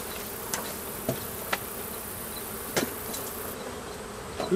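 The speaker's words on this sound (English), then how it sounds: "They got all those bees on the outside of this." A dense, steady hum of many honey bees buzzing close by outside a hive, with occasional soft clicks and taps over the constant drone.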